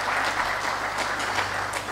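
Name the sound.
audience applause at defence summit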